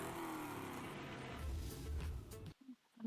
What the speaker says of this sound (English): One of those classic cars. And it's like one of a kind, but it has a V16 engine.